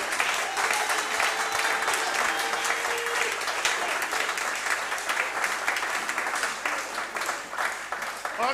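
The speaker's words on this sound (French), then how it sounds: "Donnez une acclamation au Seigneur." A congregation claps and acclaims the Lord at a church service, the applause continuous and dense for several seconds, with faint voices mixed into the crowd noise.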